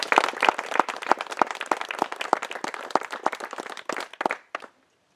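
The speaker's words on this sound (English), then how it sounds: "How about a round of applause to show our appreciation for those who are" Wedding guests applaud with close, crisp claps, a small group clapping in a brisk uneven rhythm that thins to a few scattered claps before stopping abruptly near the end.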